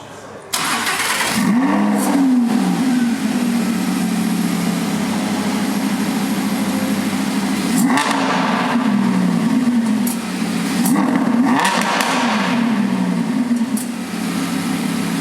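An Italian supercar engine cranks and fires up, then revs hard several times with rising and falling roars over a loud, steady idle, close by.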